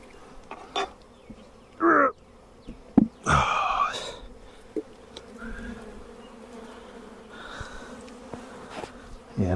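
Bees buzzing close by at a hive in a vineyard in irregular bursts, droning loudly past then fading, with a few faint knocks between.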